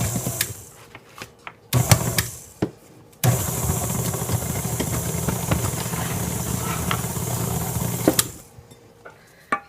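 An electric mixer whirs steadily through Mississippi mud bar batter, a loud continuous hum with brief starts and stops before a long sustained run that cuts off near the end.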